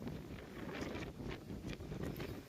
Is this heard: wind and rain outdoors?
yes